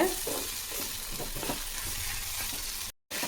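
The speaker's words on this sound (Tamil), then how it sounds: "இது மிதமான தீயில் வதக்குங்க" Green chilies and other ingredients sauté in a kadai over medium flame for a road-side style salna: a steady, close, hissing sizzle with light stirring scrapes that runs throughout, briefly cutting out near the end.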